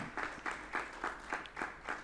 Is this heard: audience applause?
yes